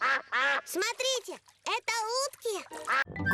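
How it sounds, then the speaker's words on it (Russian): Cartoon ducks quack in a quick, bright series between lines of children's cartoon dialogue, with a speaking voice heard over the calls. "Утки всегда появляются."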